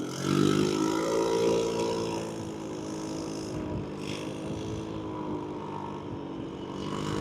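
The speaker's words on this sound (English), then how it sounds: "I'm getting to see a nice little quiet neighborhood and disturbing it with my loud exhaust" A scooter with a loud exhaust rides through a quiet residential neighborhood, its engine droning steadily close by with a surge near the start and shifting tone as it moves along, heard alone without talk.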